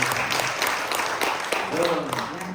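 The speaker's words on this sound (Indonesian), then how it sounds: "Kasih tepuk tangan." Brief applause from a congregation at an onsite worship service, clapping running steadily beneath a voice that talks over it.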